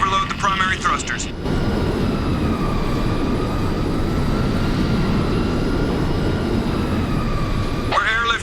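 Damaged aircraft engines in the video game Crysis Remastered give a steady, loud, rumbling drone with a faint high whine that holds evenly for several seconds, framed by brief game voice chatter at the start and end.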